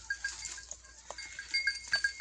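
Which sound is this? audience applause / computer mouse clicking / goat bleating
goat bleating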